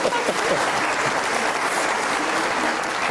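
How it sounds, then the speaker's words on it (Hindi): A studio audience at a Pakistani comedy talk show breaks into steady, dense applause, a loud continuous wash of many clapping hands that holds at an even level throughout. "बहुत सारी तालियां"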